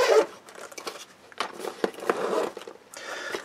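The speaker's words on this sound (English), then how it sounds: "And then you notice the whole back zips open." The back panel of a bug-out bag backpack is unzipped in a quick series of scratchy, rasping pulls at close range, with no voices.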